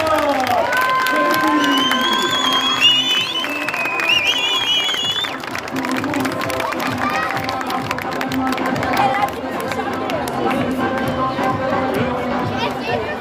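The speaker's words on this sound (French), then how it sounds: "On peut les applaudir bien fort, s'il vous plaît." A lively crowd at a bull pool event in Saint Laurent d'Aigouze claps and cheers steadily, with an announcer talking over the noise, shouts and children's voices mixed into the continuous din.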